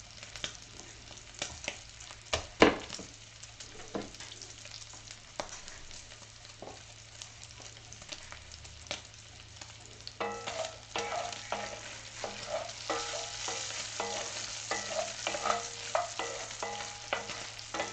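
Bacon frying in a pan while mofongo is prepped, a steady crackling sizzle with scattered sharp pops and utensil clicks, building louder and denser in the second half, with no talking.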